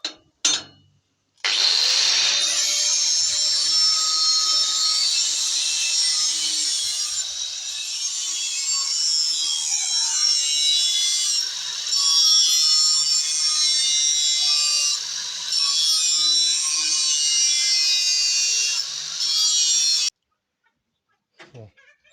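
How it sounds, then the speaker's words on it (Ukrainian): A steady, continuous abrasive hiss of sanding on a part of a NIVA-SK5 grain crusher under repair, bright and close, running for about twenty seconds with a few short dips before stopping. "Закінчив я шліфувати."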